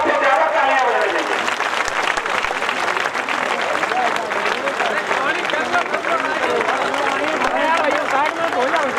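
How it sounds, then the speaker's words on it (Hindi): Dense, sustained applause and clapping from a rally crowd in Sankisa, Uttar Pradesh, welcoming Babu Singh Kushwaha with a garland. It stays loud and steady throughout, with voices mixed into the din. "जोरदार तालियां से बजना चाहिए, जितनी बड़ी माला उससे ज्यादा तालियां बजना चाहिए"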